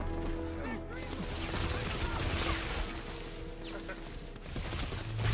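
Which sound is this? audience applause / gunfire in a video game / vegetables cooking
gunfire in a video game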